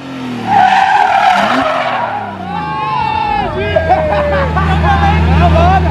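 A car's tires skid and squeal as it brakes hard to a stop during a parking challenge, a long screech riding over a crowd of excited voices and chatter.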